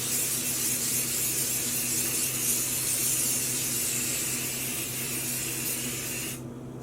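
A spray bottle fitted with a different style of nozzle mists dye onto sock blanks, giving a steady, close hiss that runs without a break for several seconds and then cuts off sharply.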